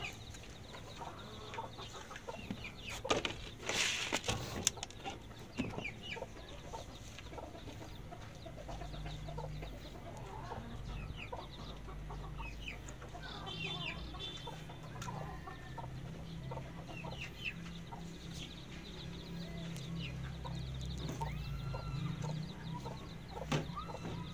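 Chickens being fed, giving a steady stream of soft, overlapping clucks and fowl calls that carry on quietly throughout with no voices.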